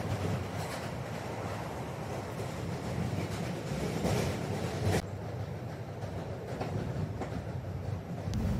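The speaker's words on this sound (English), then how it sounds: "I'm going to take the subway" A New York City subway train rumbles along with a constant loud roar and rattling wheels, heard from inside the car, with no talking.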